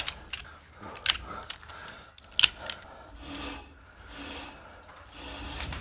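A ratchet strap being cranked to pull a greenhouse cable truss tight, giving a few sharp, close metallic clicks between softer rubbing and scraping, with no talking.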